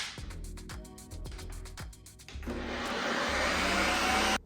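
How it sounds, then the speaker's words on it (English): Ice cream machine spinning a pint of protein ice cream on the light ice cream setting, starting with a few quick whirring pulses and then settling into a loud steady motor drone that cuts off abruptly. "Use light ice cream setting to give it that first little spin."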